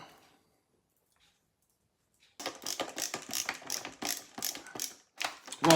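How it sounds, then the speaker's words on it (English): Screws driven back into a Super Nintendo console with a ratcheting screwdriver, rapid close clicking that starts after a couple of seconds of near silence. "Let's screw it back together."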